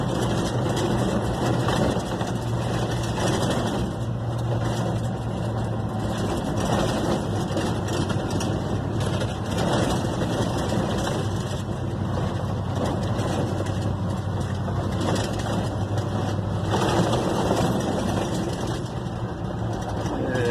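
A 1972 Ford F100 truck engine pulls steadily uphill, a loud, continuous low drone heard from inside the cab, with gentle rises in pitch as the throttle is given more.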